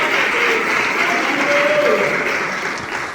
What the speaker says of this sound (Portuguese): dá uma salva de palmas bem alegre para Jesus